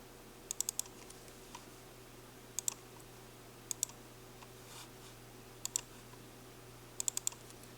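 Short bursts of computer keyboard typing, a few quick keystrokes at a time, spread in about five separate clusters over a quiet background hum.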